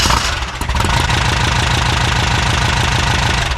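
VW Baja Bug engine running while driving with headlights on, a loud, steady, rhythmic air-cooled engine rumble that starts with a brief rev and stays close and even, with no talking.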